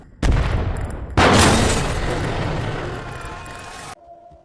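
A car blows up in a scene from the Telugu film Guntur Kaaram: two loud, close explosive blasts, the second heavier, followed by a long roaring rumble that cuts off sharply.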